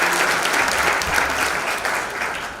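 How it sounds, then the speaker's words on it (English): A symposium audience gives a round of applause for a panelist, a continuous wash of many hands clapping at even strength that eases off slightly toward the close. "Let's also give him a round of applause."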